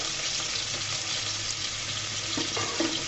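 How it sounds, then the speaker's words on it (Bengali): Dried fish sizzles steadily in hot oil with onion and garlic in a pan, a dense, even hiss with faint stirring clicks near the end, close and continuous with no talking. "অবশ্যই শুটকিগুলোকে তেলের মধ্যে ভেজে নিতে হবে,"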